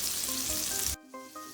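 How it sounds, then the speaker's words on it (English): Bacon and sausage frying in a pan, a close, steady sizzle and crackle that cuts off abruptly partway, leaving faint tones. "Alright, then we got the bacon almost done."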